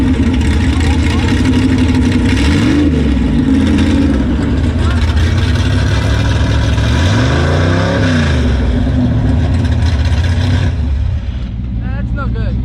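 A big-tire 1967 Camaro drag car with a 406 cubic inch engine, running rough at the drag strip, cranks and idles loudly with rising revs and throttle swells, close and steady throughout, with voices faintly underneath.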